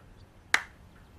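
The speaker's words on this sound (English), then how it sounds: "When I clap my hands, you'll be awake" A single sharp hand clap rings out once, close and crisp, to wake a hypnotized man, with a short decaying tail into a quiet room.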